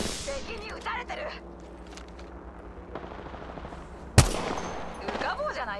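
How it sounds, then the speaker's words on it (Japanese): Gunfire in the video game Apex Legends: rattling bursts of shots across a busy game mix, with one sharp, loud blast standing out near the end and a voice talking over the action. "撃ってるよ。 敵に撃たれてる。"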